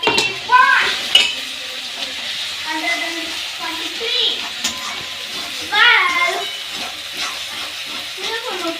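Pepper and cumin masala sauteing in a pan for chicken liver: a loud, close sizzle with spoon scrapes and clinks of metal cookware, plus short voice-like sounds in the background.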